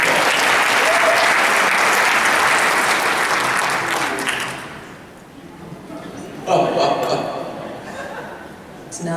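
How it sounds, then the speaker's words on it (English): An audience at a business recognition event bursts into loud, dense applause for about four seconds, which then fades away and gives way to a nearby voice talking. "Give a round of applause."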